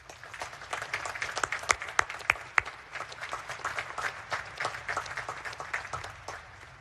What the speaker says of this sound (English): Please join me in recognizing and applauding these distinguished graduates.